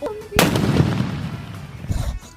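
A Sivakasi Diwali firecracker, a paper bomb, goes off with one sharp, loud bang near the start, followed by a rumbling decay and a smaller pop near the end.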